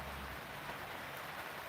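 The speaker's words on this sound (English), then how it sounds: "And of course, it started to rain again." Rain falls in a steady, even hiss with no gaps, soft and constant throughout, and no voices over it.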